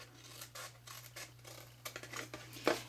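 Scissors cut through a cardboard box in short, quiet snips and rubbing scrapes, with a sharper crunch near the end, heard close and alone.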